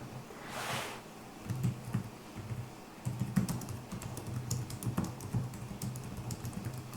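Soft, quiet typing on a wireless computer keyboard with irregular light clicks and taps, close by, over a low background hum.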